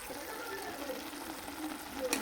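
Fried bori being mixed into a bottle gourd and poppy seed dish in a pan, a soft continuous sizzle with light stirring scrapes and a sharper clink at the end.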